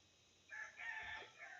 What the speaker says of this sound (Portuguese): Aos galos.